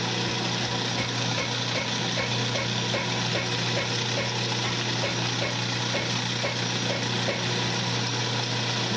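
Sandpaper of 600 grit rubbing a turned wooden duck call spinning on a lathe, a steady close whirring hum with fine rhythmic scratchy ticking that runs unbroken and loud throughout.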